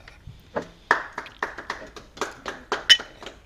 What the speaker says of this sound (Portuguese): É o nosso público que está a bater palmas